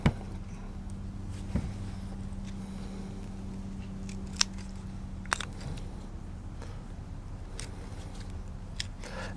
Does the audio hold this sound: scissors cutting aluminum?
yes